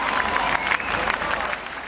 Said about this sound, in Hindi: रणवीर के लिए जोरदार तालियां।